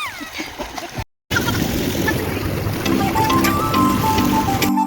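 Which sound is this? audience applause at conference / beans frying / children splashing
children splashing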